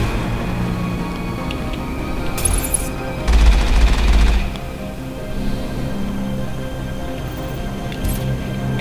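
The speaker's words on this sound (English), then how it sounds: "Who's shooting?" Gunfire in Mass Effect: scattered shots over a steady background, then a loud, rapid automatic burst for about a second, followed by a few sharp isolated reports.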